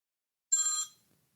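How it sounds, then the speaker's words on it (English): A mobile phone ringtone goes off during a wrestling recap podcast, a single bright electronic ring lasting about half a second before cutting off, clear and fairly loud in an otherwise quiet room. "You gotta silence your phone, dude."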